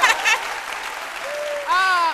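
Brief burst of studio audience applause for a guest on a midday TV show, short clapping that gives way to a voice speaking and an exclamation over the fading claps.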